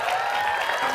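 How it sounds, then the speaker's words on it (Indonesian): Studio audience on an Indonesian dating show breaks into a brief, full burst of clapping, close and continuous for about a second. "Tepuk tangan buat Okta, teman-teman."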